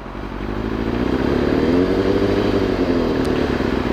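A motorcycle engine idles up and holds a steady throttle near 3000 rpm, producing a loud, continuous close-up drone with a slight rise at the start and then an even, unbroken hum.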